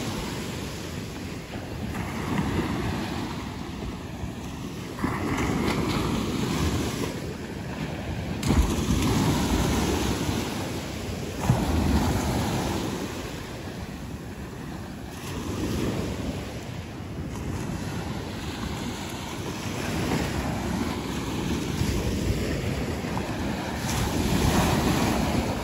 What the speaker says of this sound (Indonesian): Kita keliling sedikit di pantai Ladong,